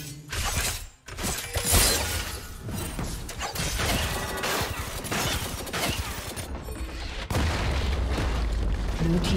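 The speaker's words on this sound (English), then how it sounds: "Red team's turret has been destroyed." A turret being destroyed in League of Legends, with shattering crashes, booms and mechanical debris layered over continuous battle effects, loud and busy throughout.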